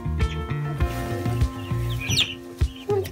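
Baby chicks in a new coop cluck and peep in quick, repeated bursts close by, with a few higher chirps mixed in and no voices.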